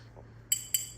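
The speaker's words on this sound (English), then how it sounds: "He's got this annoying new little habit now that he's got a wedding ring of just tapping it on everything." A wedding ring taps twice against a hard surface, two quick bright clinks about a quarter second apart, near and fairly quiet over low background hum.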